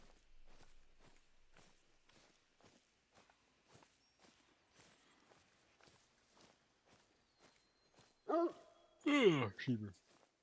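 Dog in the hunting video game The Hunter Call of the Wild, set in the Yukon: steady footsteps crunch throughout, then near the end a few loud close barks and yelps.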